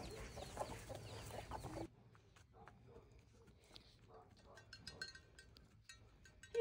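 Jersey chicken hens cluck and chirp in short, scattered calls after a loud opening burst, with a person talking softly over them nearby.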